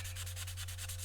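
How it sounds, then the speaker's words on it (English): Sandpaper, 120 or 240 grit, rubbed over a second-hand steel chisel to remove surface rust, making a steady rhythmic scratching of regular back-and-forth strokes, close and continuous with no voices. "It often just requires a little bit of sanding with 120 grit or 240 grit."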